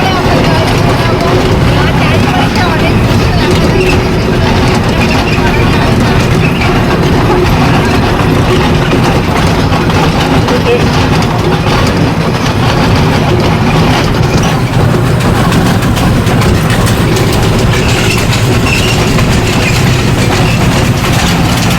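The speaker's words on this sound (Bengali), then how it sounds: "এই এনএন পার্কের ট্রেনে আমি কখনো উঠিনি, এটাই আমার ফার্স্ট টাইম।" A small park train carries riders in a steady, loud rumble of wheels and engine running without a break, with voices mixed faintly into the noise.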